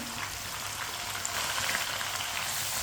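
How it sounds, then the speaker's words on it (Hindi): Finely chopped tomatoes and green chillies fry in a pan with garlic while making aloo methi, a steady close sizzle with a soft crackle that swells slightly partway through, with no voices. "2 मिनट के लिए पका लेंगे टमाटर और सब्ज़ मिर्च को।"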